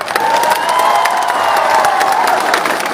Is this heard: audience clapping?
yes